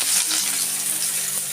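Onions frying in mustard oil in a hot wok give a steady, close, bright sizzle with light stirring beneath it.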